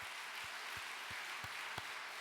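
Faint, distant applause from a church congregation, a soft continuous patter of clapping with a few sharper individual claps standing out, quiet and far off.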